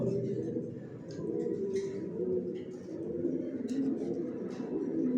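Janssen line racing pigeons, imported birds kept in a new loft and sitting on eggs, coo in a continuous low, throaty murmur close by, with someone talking over them throughout.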